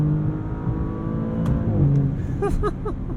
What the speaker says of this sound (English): it's hard to argue with the performance of this twin-turbo V6. It has the go fast.